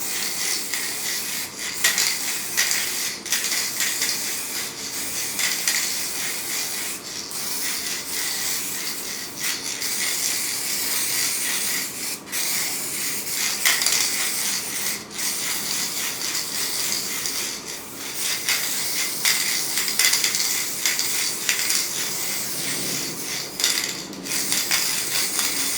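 A protective coating is sprayed from a can onto the top of a homemade table, giving a close, steady hiss broken by short pauses and fresh bursts over about twenty-five seconds.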